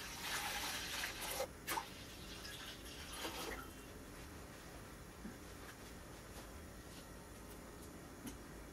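About 3 to 4 litres of water poured into a cooking pot for rice, a brief splashing gush early on that fades into a quiet, steady hiss.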